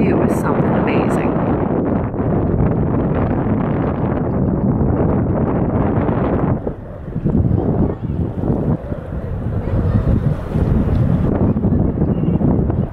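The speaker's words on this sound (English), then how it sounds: "The wind is something terrible" Strong wind blows at a waterside park on Long Island, New York, a loud, constant roar and buffeting against the microphone that swamps everything, easing only slightly about halfway through.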